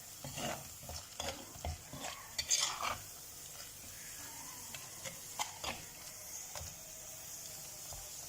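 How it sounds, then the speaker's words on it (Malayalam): Masala paste stirred in a pan while cooking a sardine and mango curry, soft scraping spoon strokes in uneven rhythm over a faint sizzle, close and fairly quiet, with no voices. "അരപ്പിൻ്റെ പച്ചനിറം പച്ച മാറുന്നത് വരെ നമുക്കത് കിടന്ന് ഇളക്കി തരാം."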